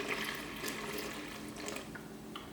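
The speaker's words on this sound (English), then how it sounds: "We will add another maybe 150 ml of water." Water poured into a paleo breakfast mix of cacao powder and cacao nibs, a steady faint splashing pour lasting throughout, no talk.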